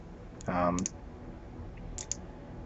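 A few sharp mouse clicks sound while loading antimatter ammunition onto a ship's gun in Eve Online, with a short soft interface tone between them over a faint background hum.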